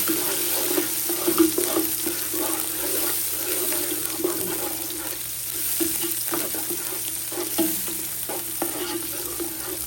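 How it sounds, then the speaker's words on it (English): Jalapeño peppers fry in hot oil with a continuous crackling sizzle, near and fairly loud, dotted with soft pops and faint stirring clatter, no voices. "I'm gonna drop in some jalapeno peppers. I like everything spicy. Infuse that in the oil."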